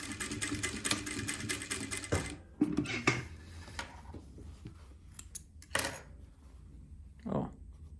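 A sewing machine runs in bursts while stitching a seam on a dress coat, the motor whirring through the first seconds, then shorter runs broken by quiet pauses and a few handling clicks.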